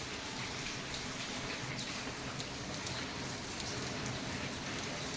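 Steady light rain patters continuously on surfaces, a soft even hiss with scattered drops throughout and no voices.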